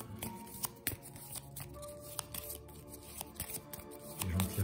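A deck of Arkham Horror card game cards is shuffled by hand, giving a close, crisp run of rapid clicks and riffling flutters that lasts several seconds in a quiet room.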